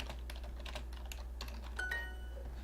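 Rapid typing on a computer keyboard set to Japanese input, a quick run of crisp close key clicks in uneven bursts over a low steady hum, no voices.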